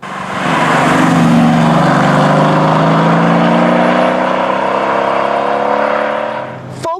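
A Mercedes-AMG GT S sports car revs up loudly and holds a rising, roaring exhaust note for several seconds before cutting off abruptly.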